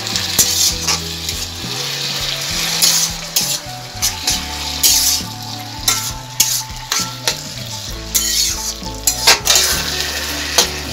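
Chilli paneer stirred in a hot frying pan, with loud continuous sizzling and a spatula repeatedly scraping and knocking against the metal, backed by music and no speech.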